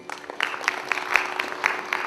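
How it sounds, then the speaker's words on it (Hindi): Scattered applause from an audience at a classical Indian vocal recital, fairly faint and loose, with individual claps standing out irregularly over about two seconds. "कलाकारों की हौसला अफजाई के लिए आप तालियां तो बजा दीजिए"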